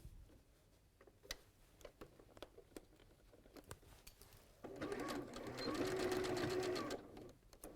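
A sewing machine stitching a dress seam, starting with faint ticking and handling clicks, then a steady close mechanical whirr of rapid stitching for a few seconds before stopping.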